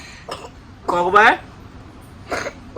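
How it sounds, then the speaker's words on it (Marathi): A few short, harsh coughs in bursts, close by, with voices around them. "खोकला लागला औषध चालत का"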